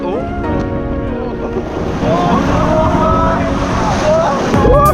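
Sea waves wash and surge around a group of people on the Croatian coast, with wind buffeting the microphone and voices calling out over the steady rush of surf.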